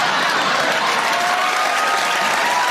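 Audience applause and cheering at a Jeff Foxworthy stand-up comedy show, a dense, steady wash of clapping from a large crowd that holds at full strength throughout with no voices over it.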